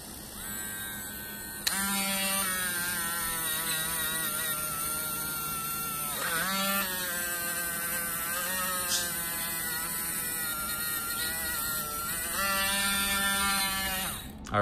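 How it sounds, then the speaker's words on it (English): Dremel spinning a new wax-coated brush while polishing a stainless steel G-Shock watch, a steady buzzing motor whine with harmonic hum, pitch dipping briefly when the brush meets the metal. "So let's get some wax on the Dremel. You can see it's a new brush, so it's throwing all that debris"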